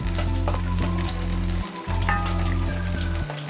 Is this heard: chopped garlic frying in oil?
yes